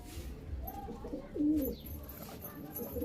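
Pigeons coo in a loft housing Chini Kaldum and Kalasabuj birds, a soft throaty coo swelling near the middle over a murmur of other birds.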